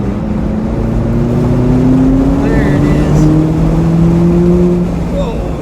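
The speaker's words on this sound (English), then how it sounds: "Do you want to hear that engine again?" A McLaren 570S sports car engine revs and accelerates with a rising, steady drone, while a person speaks briefly over it.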